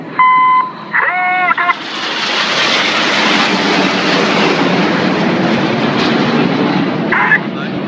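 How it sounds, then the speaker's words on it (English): Red Arrows jets in a low pass at about 100 feet over Torquay: a loud, broad jet roar that swells in after a few brief tones and holds steady for several seconds. "These 4 jets now descend to just 100 feet."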